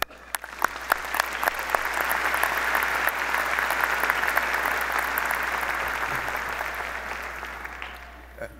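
Sustained audience applause at a university commencement ceremony welcoming Chancellor Steve Wrigley, a dense wash of clapping that swells and holds steady before tapering off.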